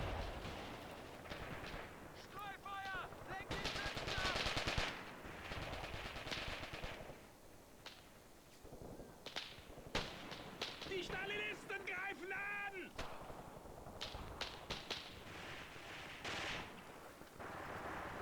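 Gunfire from a World War II strategy video game battle on the Donbas front: dense, sustained bursts of machine-gun and rifle fire, loud and near, rattling almost continuously with brief lulls and scattered sharper cracks.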